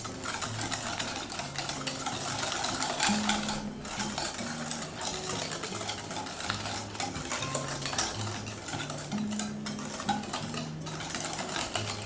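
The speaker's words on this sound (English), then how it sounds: "Then we're going to add the vanilla sugar and also give that a good mix." Eggs, sugar and vanilla sugar being beaten together for a plum cake, likely with an electric mixer, giving a steady whirring drone that runs unbroken for the whole stretch with faint rattling over it.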